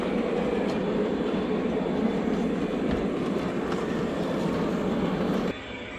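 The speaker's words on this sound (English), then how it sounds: "The train passes the junkyard and goes through the industrial area" Model train on a Christmas railroad layout rolling past a junkyard and through an industrial area, a continuous close rumble and clatter of wheels on track that drops off abruptly near the end.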